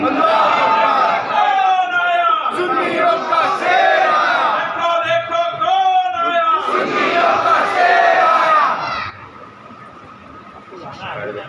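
A large crowd at a religious gathering in Ahmedabad roars a loud, sustained chant in answer to the Nara-e-Takbeer call, voices swelling in waves for about nine seconds before dropping to a quieter murmur.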